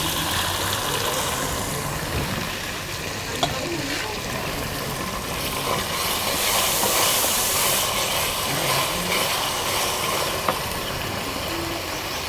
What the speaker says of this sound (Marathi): आता मी हे अद्रक लसूणचं पेस्ट घालत आहे.